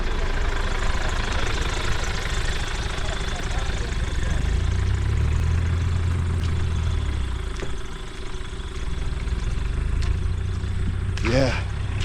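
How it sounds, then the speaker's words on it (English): A small-engine tractor idles nearby on a rural track in Gambia, a continuous low, slightly knocking rumble that swells briefly midway, with people talking over it now and then. "That tractor with the small engine is a beast."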